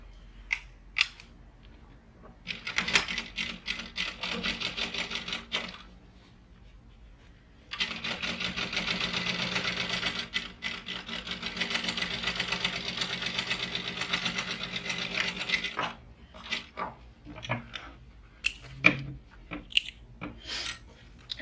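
A sewing machine top stitches a pouch panel, running in two steady rapid bursts of close, rattling stitching separated by a short pause, followed by scattered handling clicks.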